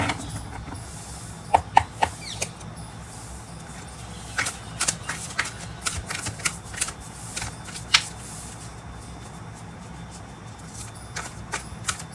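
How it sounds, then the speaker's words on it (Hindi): Tarot cards are shuffled close by in a quiet room, giving scattered soft riffles and sharp snaps spread irregularly over a faint steady hum. "Okay, let us start with the shuffling."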